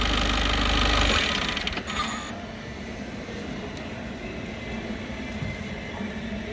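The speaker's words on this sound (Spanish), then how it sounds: "vamos a apagar el vehículo y dejémosla en contacto" A 2018 Peugeot Expert's engine cuts off: the steady idling rumble runs loud for about a second, then drops away, leaving only a faint electrical hum and quiet background.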